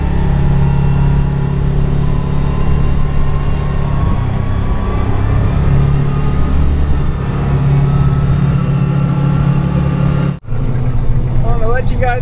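A truck rolling down the road, heavy engine and road rumble droning steadily and close for the whole stretch, dipping briefly near the end before resuming.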